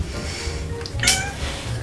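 Single short meow from an older shelter cat, clear and close, heard over a steady background hum and low rumble.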